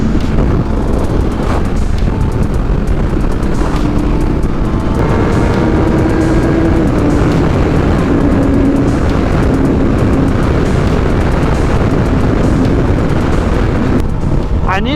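Suzuki GSX-R750 motorcycle riding at speed, heavy buffeting wind noise over a rumbling engine that rises and falls with throttle, continuous and loud throughout.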